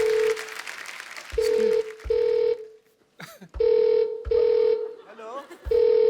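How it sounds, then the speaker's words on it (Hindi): A telephone rings repeatedly in short electronic bursts with pauses between them, alongside brief background sounds in a comedy show setting. "फोन आ रहा है, स्टेथोस्कोप नहीं आ रहा। आ गया। ये बज रहा है।"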